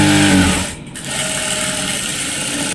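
Sewing machine stitching straight pant seams, a fast, steady mechanical whir heard close up and alone after a brief low thump at the start.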